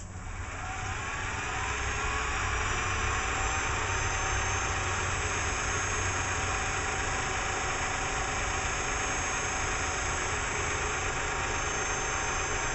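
A small electric motor with oil in its gear case runs steadily on an old 24-volt supply, giving a continuous whirring drone with a high whine that holds level throughout, close and alone.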